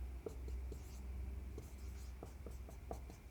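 Chalk or marker strokes on a board while working through a chemistry reaction, short scratchy taps and scrawls in an irregular rhythm, faint and close, over a steady low room hum.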